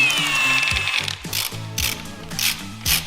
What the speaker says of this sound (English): there's just a few 17mm and 14mm bolts to undo